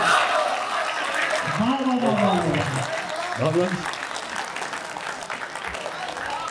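Audience applause for poet Mukesh Alam at a Delhi poetry gathering, steady broadband clapping from a crowd with a voice talking over it in the middle.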